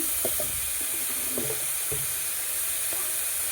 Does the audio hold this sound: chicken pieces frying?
yes